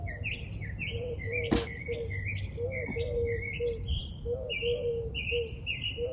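Birds chirp outdoors in a steady series of short, bright, repeated calls, with lower cooing notes and a single sharp click partway through, all fairly soft against a low background rumble.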